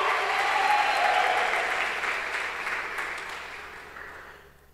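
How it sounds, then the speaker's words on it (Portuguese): Congregation applauding during a church service, a broad, dense burst of clapping that starts strong and then gradually fades away toward the end. "Dê um aplauso ao Senhor por isso"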